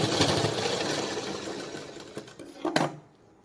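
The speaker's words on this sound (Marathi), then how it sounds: "आणि पुन्हा एकदा आपण इथे एक शिलाई मारून घेऊ." A sewing machine stitches thick blouse fabric with a continuous whirring hum that slows and fades, ending in a few brief clicks and knocks as the stitching stops.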